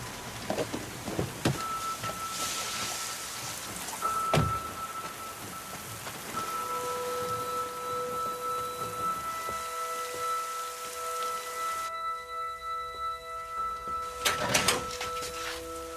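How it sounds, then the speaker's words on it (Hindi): Heavy rain at night patters steadily on a surface, with a few sharp thuds and sustained electronic tones over it, and a brief clatter near the end. "डिटेक्टिव मून, इतनी रात को इतनी बरसात में यहाँ?"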